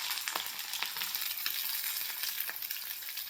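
Bitter gourd fries in hot oil in a kadhai with a little cumin, giving a steady, dense sizzle with faint stirring scrapes throughout and no talking.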